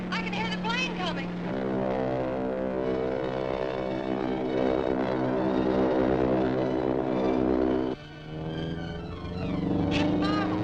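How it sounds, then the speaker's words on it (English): A propeller airplane drones steadily in a 1941 Captain Marvel serial, its engine hum continuous under music and excited voices calling out. "I can hear the plane coming."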